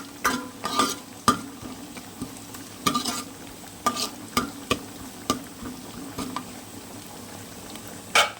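Onions sautéing in a pan, stirred with a utensil: irregular scraping strokes and clacks over a steady soft sizzle, close and alone without talk.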